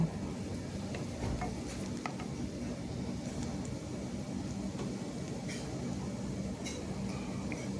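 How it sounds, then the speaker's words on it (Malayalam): Sliced onions frying in a pan for kadala curry, stirred continuously: a dense, even sizzle with scattered scraping ticks from the spoon, steady and close throughout. "സവാളയൊക്കെ ഒന്ന് മൂത്ത് വരുന്നവരെ നല്ലവണ്ണം ഒന്ന് മിക്സ് ചെയ്യുക"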